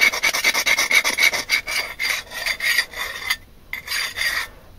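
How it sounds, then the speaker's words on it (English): Steady rasping file strokes work the burr off a customised Ka-Bar Warthog survival blade, a fast rhythmic run of scrapes that pauses briefly, then resumes with a few more strokes, close and alone. "Getting the burr off."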